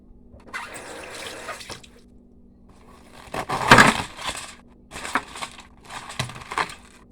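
Tap water splashing while corned beef is rinsed and broken apart by hand in a kitchen sink, coming in several short bursts with brief pauses, moderately close.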